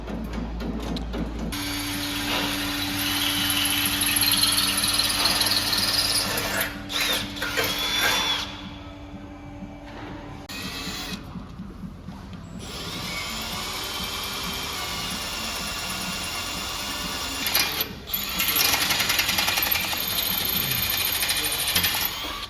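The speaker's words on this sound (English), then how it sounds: "Let's get them drilled in now" Power drill boring holes in new track exhaust tips for a Porsche GT4 in a workshop: a loud, sustained high whine that runs for long stretches, with a few brief pauses and changes in pitch.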